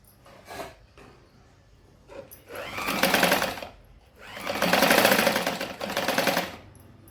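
A sewing machine runs in three bursts of rapid stitching, sewing a diagonal seam on a blouse sleeve, with brief quiet pauses and soft handling noises between the runs.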